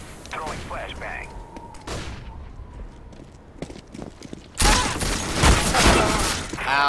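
A flashbang grenade goes off in CS:GO: a sudden loud, broadband blast rings out over the last two seconds after quieter in-game footsteps and clatter, with a voice briefly heard earlier.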